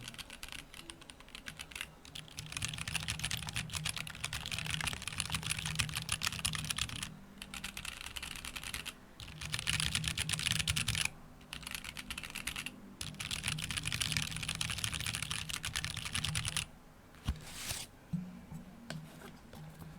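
Steady close typing on a KBDFans D45 mechanical keyboard with ivory keycaps and foam dampening, a dense muted clatter with brief pauses, fairly quiet throughout and no talking.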